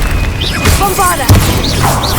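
A Bombarda spell explodes in Hogwarts Legacy, a loud booming blast amid dense game effects, whooshes and a brief spoken voice.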